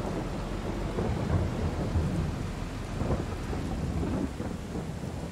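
Steady rain pours with deep rolling thunder in the Farming Simulator 22 video game, a loud continuous rumble and hiss throughout, with no speech.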